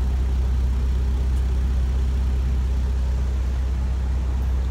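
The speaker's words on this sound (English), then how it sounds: "your quad tips on the back of the Macan S to give it a sportier look as well as a very aggressive sound" A 2017 Porsche Macan S runs steadily through its quad exhaust tips, producing a continuous, deep, even rumble at close range with no speech.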